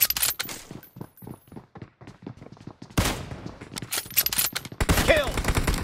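Gunfire in PUBG Mobile during a team deathmatch or gun game match: rapid bursts of automatic shots, then heavier volleys and louder sustained firing near the end, with sparse game voice callouts between.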